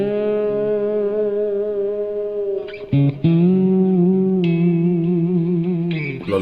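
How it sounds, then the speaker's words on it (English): A soloed 1962 Telecaster electric guitar with Seymour Duncan pickups plays loud, sustained, ringing notes, heavily washed in delay and reverb, with a few quick note changes and echoing repeats trailing behind. "A lot of delay and reverb."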